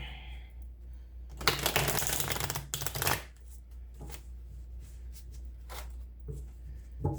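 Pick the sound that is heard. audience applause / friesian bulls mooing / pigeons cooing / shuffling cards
shuffling cards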